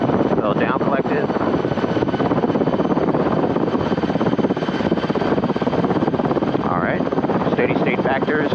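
A Rotorway helicopter in flight training gives a constant, loud drone of rotor and engine throughout, with voices talking over the steady mechanical noise.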